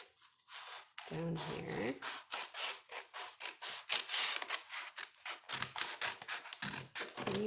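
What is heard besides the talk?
scissors cutting a paper grocery bag along the fold line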